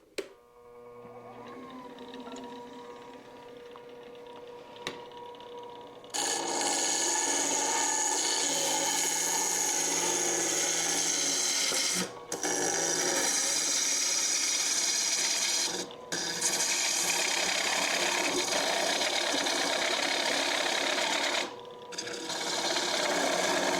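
Lathe gouge cutting a segmented wooden yarn bowl with chatter from riding off the bevel: a quieter start, then a loud continuous rasping, scraping cut close up, broken by a few brief pauses.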